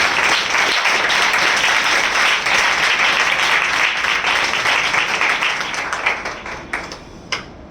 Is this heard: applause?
yes